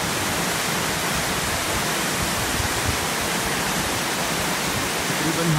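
An unnamed waterfall high in Naran Valley, with icy cold water, roars in a steady, dense, unbroken rush close by, filling the whole span without pause and with no voices over it.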